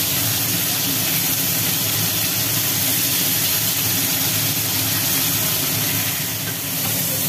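Fish fry in hot oil in a wok in a home kitchen, giving a constant loud sizzling hiss that carries on without a break and without speech.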